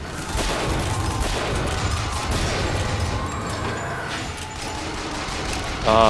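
Rapid gunfire in Bioshock Infinite, dense bursts of shots crackling almost continuously over busy game noise, loud and close, with a brief metallic clatter at the end.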